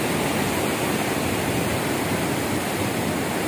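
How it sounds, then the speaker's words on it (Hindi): Water rushes with great pressure through the gates of Qadirabad Barrage on the Chenab River in Pakistan, a dense, continuous roar that stays loud and unbroken from start to finish. "बहुत प्रेशर से पानी निकलता है पीछे स्टोर से"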